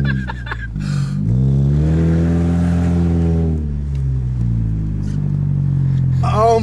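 A loud car drives and revs up, its engine droning and rising in pitch, then easing back, close and heavy throughout, with a voice speaking briefly near the end.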